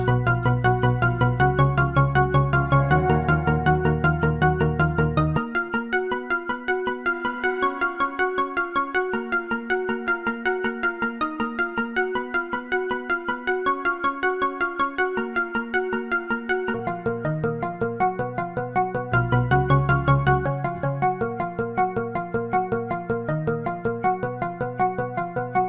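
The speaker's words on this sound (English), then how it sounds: "Let's add some reverb." A live-looped Ableton song with reverb added, a rapid stream of bell-like synth notes that ring into one another over a bass line that drops out and returns, playing steadily for about twenty-five seconds without voices.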